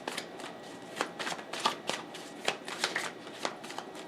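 Tarot cards shuffled briskly by hand in repeated riffling bursts, close and clear, with no talking.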